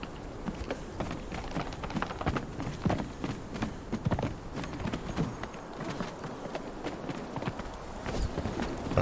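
A horse follows the player character in the video game Conan Exiles: Isle of Siptah, its hooves giving a steady, moderately close clip-clop walking rhythm that runs through the whole stretch with no talk over it.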